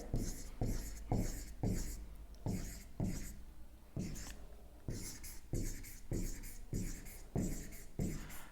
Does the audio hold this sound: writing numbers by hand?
yes